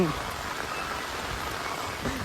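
Steady rain patters on a surface, a continuous soft hiss close by, with no voices.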